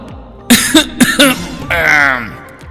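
A few sharp coughs in quick succession, close and loud, followed by a strained, voiced throat sound.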